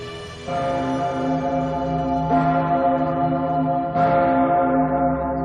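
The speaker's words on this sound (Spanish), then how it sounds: "Cada vez que suena, la Pummerin, la mayor campana de Austria, recuerda el sitio de Viena." Vienna's Pummerin, Austria's largest church bell, tolls with deep sustained resonant strikes, three big swells of ringing overtones in slow succession, loud and alone.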